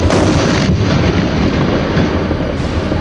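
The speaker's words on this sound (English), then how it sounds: "After being launched across a minefield, it was detonated," A mine-clearing line charge, a hose packed with plastic explosives laid across a minefield, detonates in a loud, sustained roar of blast rumble that fills the whole moment without any talk.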